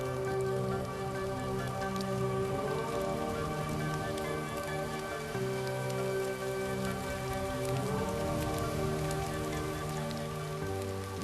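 Rain patters on surfaces in the Serengeti beneath a sustained musical score of low held tones, the drops soft and continuous behind the music.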